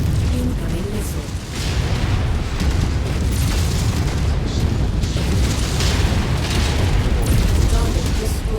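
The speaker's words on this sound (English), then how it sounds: "Incoming missile." Incoming missiles detonate in a mech combat video game, a continuous heavy rumble of booms and blasts layered with mechanical clatter, with a voice speaking over the barrage.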